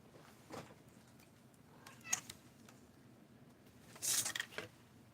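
A house cat meows a few times, short scattered cries with a louder squall near the end, over a quiet room background with no speech.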